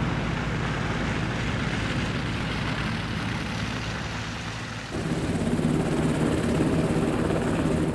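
Medevac helicopter in Afghanistan, its rotor and engine giving a continuous loud whirring roar that swells a little louder partway through, with no voices.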